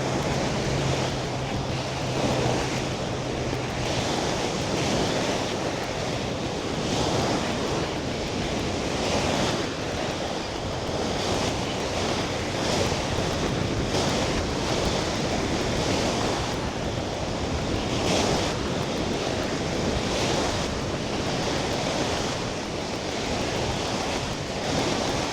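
Steady wash of ocean surf and gusting wind on the beach at Imperial Beach, California, near the pier, a continuous broadband roar with rolling swells and buffeting wind on the microphone, no voices.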